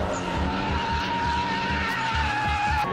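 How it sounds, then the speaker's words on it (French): A turbocharged 300-horsepower Nissan 200 drifts at a show in Athens, its tires squealing and skidding continuously over a loud, steady engine roar. "des Nissan 200 avec moteur turbo de 300 chevaux, largement assez puissants pour pouvoir faire des dérapages comme ceux que l'on voit."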